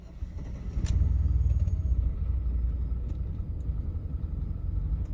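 A Mercedes-Benz car engine runs rough with a misaligned airbox upsetting the air-fuel mixture, giving a close, steady low rumble with uneven pulsing and no speech over it.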